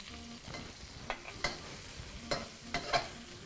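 Vegetables with green onions and Thai chilies sizzle in a hot stir-fry pan while a utensil scrapes and stirs them in short, uneven strokes close by.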